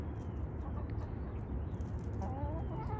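Chickens clucking and murmuring nearby over a steady low rumble, with a few higher calls rising toward the end.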